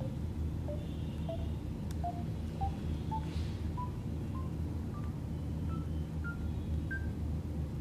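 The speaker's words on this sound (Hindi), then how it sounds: "तो आपने देखा कि हर बटन का अलग टोन है।" Phone keypad buttons pressed one after another, about a dozen short DTMF beeps in a steady, evenly spaced sequence, each tone briefly sounded over a constant low hum and hiss.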